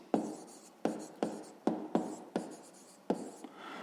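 Pen or pencil writing by hand, a series of about seven sharp evenly spaced strokes, close and quiet, with no voice.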